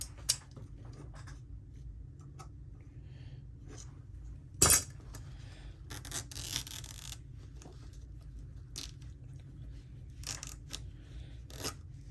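Sparse, sharp snips and light metallic clicks from scissors cutting fabric, a few distinct cuts spaced irregularly over a low steady room hum.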